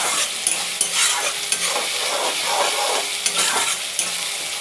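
Onions sizzle and fry in a pan while being stirred, with steady crackling spattering throughout and repeated scraping strokes of the stirring utensil, close and fairly loud, no voices.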